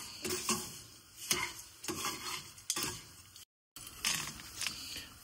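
A spoon stirs ground masala frying in ghee until it turns slightly crispy and red, giving soft, regular scraping strokes over a light sizzle, with a brief gap before the stirring resumes.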